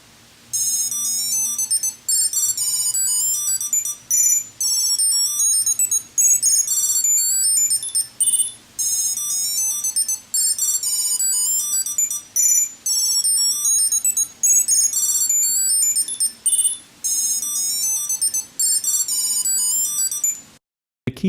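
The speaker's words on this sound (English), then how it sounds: "You have the ability to change the ringtones in the app." A Tile tracker app plays its ringtone to locate a slim wallet, a bright, high electronic melody that repeats in steady bursts with brief gaps, loud and close, with no voices.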